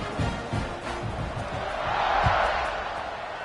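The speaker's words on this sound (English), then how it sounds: "this crowd is buzzing after that last score" Crowd noise at a football game in the 4th quarter after a score, a broad roar that swells in the middle, with a commentator talking over it.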